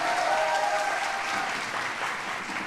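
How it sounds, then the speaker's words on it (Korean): Congregation applause at a church Bible quiz contest, a steady wash of clapping from many hands at moderate level, continuous and even throughout. "성도님들 큰 박수 부탁드립니다"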